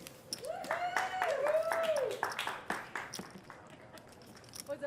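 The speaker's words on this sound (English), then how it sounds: "The loud cheering you just heard was from Miss Audrey White, Larry's wife." Loud cheering and whooping from Audrey White, wife of the player Larry, at a poker table in Ameristar Casino Hotel Vicksburg, Mississippi, with rising shouts and scattered claps filling the first half before fading into room chatter.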